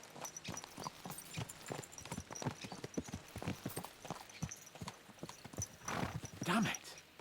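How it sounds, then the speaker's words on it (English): Horses' hooves clip-clop in a steady trot in a medieval role-playing video game, with a brief whinny near the end and someone talking over the ride. "Let's really spur these horses on, eh?"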